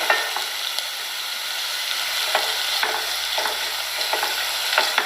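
Chili and chicken mixture sautéing in a pan, a constant gentle sizzle broken by a run of light scraping stir strokes at an uneven pace, close and without voices.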